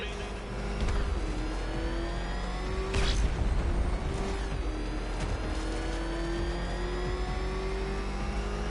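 Batmobile engine in Batman Arkham Knight revving loudly and steadily, with rising and falling pitch sweeps, a sharp surge near the middle and continuous high whine throughout.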